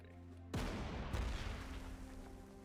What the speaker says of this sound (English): This artillery move up 1 space and shoot infantry.